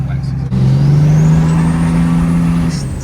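A pickup truck fitted with Rough Country Vertex coilovers spins its tires with a loud, sustained engine drone close by. Voices are heard in the background.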